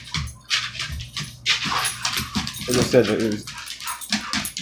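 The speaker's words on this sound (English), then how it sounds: "sorry, my dogs are playing." Several pet dogs play together, letting out scattered barks, yips and whimpers in quick bursts close by while a person keeps talking over the commotion.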